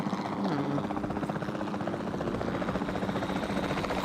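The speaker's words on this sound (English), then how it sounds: "Then the sensible thing is to take a capture team helicopter." Helicopter rotor chop in a dinosaur capture video game, a steady thrumming drone running throughout, with game voices talking over it.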